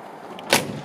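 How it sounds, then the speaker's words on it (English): The door of a 1955 Chevrolet 210 hardtop gasser shuts with a single solid, close thump after a faint click, short and clean against a quiet background. "Doors close nice."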